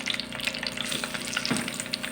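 Eggplant slices sizzle and crackle in a pan of hot oil, a close, steady fry with small pops throughout and no talk.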